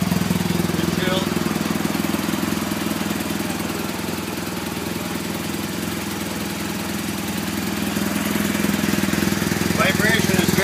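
A new BMW R 1250 RT LC motorcycle engine idles steadily with a low, even throb and a faint mechanical clatter, close up and continuous, with occasional voices nearby.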